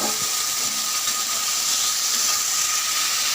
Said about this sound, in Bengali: আলুটাও আমি ভেজে নেবো এর সঙ্গে।